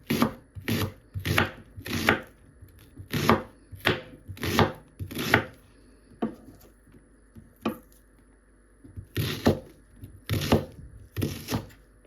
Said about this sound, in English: Just chop them like this, tiny pieces.